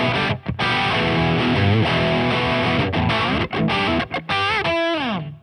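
A Squier Sonic electric guitar plays through an amp's base overdrive setting with light reverb, loud and distorted, with sustained chords, a few brief breaks, and a final bent note sliding down.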